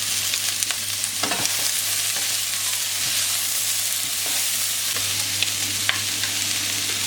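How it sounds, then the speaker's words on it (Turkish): Steady sizzling of meat and leek stir-frying in a hot pan, with occasional clinks and scrapes of stirring over a constant low hum. "2-3 dakika kavuracağız öncelikle."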